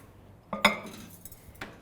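A bowl of cut potatoes goes into a microwave oven: a few quiet clinks and knocks of glass or dishware against the oven, with a sharper clack near the middle and a softer one at the end.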